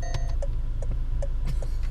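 A car's turn signal in its Urban Rhythmic sound mode plays a short repeating electronic chime, with evenly spaced beeps about every 0.4 seconds over a steady low hum.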